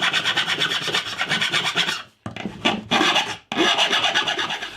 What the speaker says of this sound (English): These screws are a little bit long, so I'm going to have to just file the ends off.